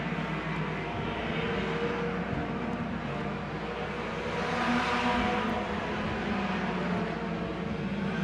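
Race cars at Merritt Speedway roar around the track in a dense, continuous wall of engine noise, running almost three wide out of turn four, the pack sound swelling slightly mid-way as cars sweep past.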